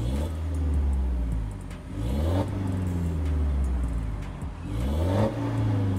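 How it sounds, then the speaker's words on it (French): A BMW 320d E92 diesel engine revving nearby, with repeated rising and falling throttle blips from a steady idle, three distinct revs in a row. "je vous propose qu'on démarre la voiture."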